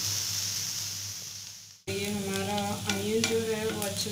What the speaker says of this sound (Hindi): जब तक हमारा प्याज अच्छे से गोल्डन ब्राउन नहीं हो जाता तब तक हमें इसे चलाते हुए